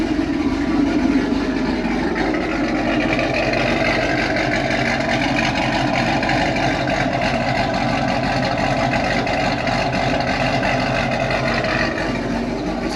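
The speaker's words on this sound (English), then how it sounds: "Show you guys what this thing sounds like right now. It is a completely stock LS7." A completely stock LS7 V8 in a Camaro Z28 runs steadily throughout, a loud, continuous engine drone with an even, low rumble and no talking over it.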